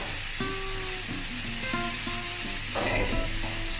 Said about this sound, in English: Mix the corned beef nicely into the mixture.